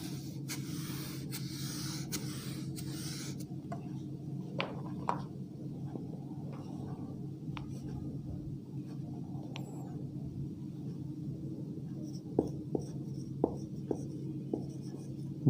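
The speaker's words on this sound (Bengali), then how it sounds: "আচ্ছা, এরপর দেখো আমরা আরো কিছু বাক্য লিখি।" Sentences being written on a classroom board for a Bengali grammar lesson, with a steady scratchy rubbing of the writing tool, occasional taps, and a low constant room hum underneath; no talking during the writing.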